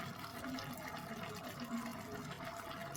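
Liquid poured into a container in a home kitchen during cooking, a soft continuous splashing and trickle that is faint and close, with a low hum underneath and no talking.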